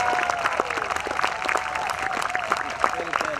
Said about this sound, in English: Everybody clap right now and say, yay!